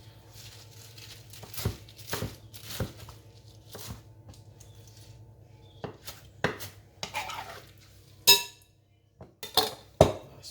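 Salad with spinach being tossed in a bowl, with clinks of utensils against the dish and soft rustling of leaves in irregular bursts, close by and without talk.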